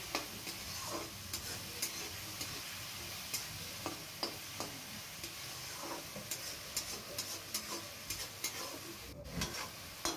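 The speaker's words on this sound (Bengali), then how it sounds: "আলুগুলো দিয়ে আমি 2-3 মিনিট একটু কষিয়ে নেব।" Potatoes sautéing in spice masala for a Bengali fish roe curry: a faint, low sizzle with light, irregular spoon taps and scrapes against the pan, quiet and close, with no voices.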